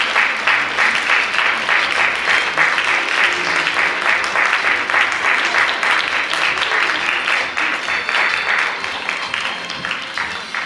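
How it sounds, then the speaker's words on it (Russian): Sustained, dense applause from an audience at a bellydance contest in Ukraine, many hands clapping loudly and steadily for the full stretch with faint voices mixed in. "Пожалуйста, зрители, не жалейте ладоши, аплодируйте."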